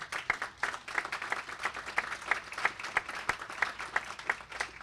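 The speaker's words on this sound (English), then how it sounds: "give yourselves a round of applause for the work that you do" Audience applause at a small city economic leadership summit, a steady patter of many hands clapping with a few sharper individual claps standing out, moderately loud and continuous without talk.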